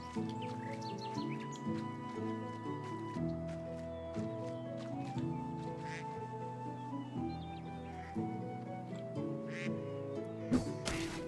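Ducks quacking in the video game Medieval Dynasty, with repeated quacks at a moderate distance over a steady tonal background.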